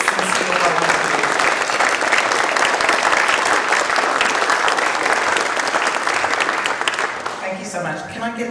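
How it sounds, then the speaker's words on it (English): An audience gives sustained, loud applause for a group of volunteers at a talk on Australian home innovations, thick clapping that tapers slightly near the end as a voice comes in. "these hard-working people deserve a round of applause"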